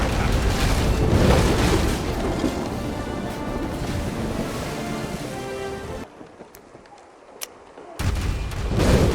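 Cannon fire in The Legend of Pirates Online, a pirate naval game, with dense booming blasts over a constant roar of sea and battle noise, a brief drop to near quiet, then the heavy rumble returning.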